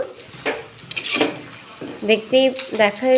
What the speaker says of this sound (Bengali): চিনি দিয়ে সেটাকে সবজির সঙ্গে মিশিয়ে দেব।